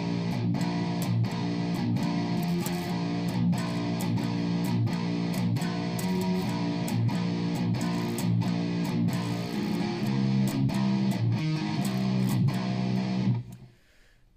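A distorted electric guitar plays a riff slowly and steadily, with a driving, evenly pulsed pattern that keeps going for about thirteen seconds before cutting off abruptly into silence.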